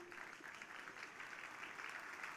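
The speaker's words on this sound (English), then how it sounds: "Can we have a big round of applause, please?" Steady applause from a conference audience, a dense even patter of many hands clapping throughout, fairly quiet and distant.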